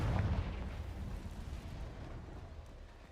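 Confringo spell blast from Hogwarts Legacy, a heavy booming burst up front that rolls into a rumbling, crackling tail over a few seconds.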